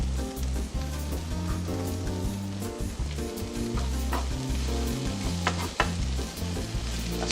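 Stir fry noodles with fresh chilli sizzle and crackle steadily in a hot pan, a close, continuous frying hiss with small pops, while low tonal background music runs underneath.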